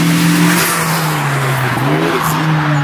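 Sports car at a track event on the front straight at Mosport, passing close with a loud engine note that rises, dips as it shifts, then climbs again in a steady roaring sweep.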